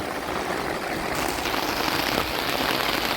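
Steady rain drumming on the roof of a car parked overnight near wind turbines on Khao Kho, heard from inside as a dense, continuous patter that swells slightly halfway through, with no talking.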